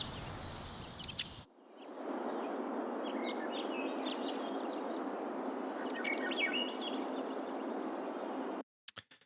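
Birds chirp and tweet in short scattered calls over a steady hiss of background noise, fairly faint and at a distance.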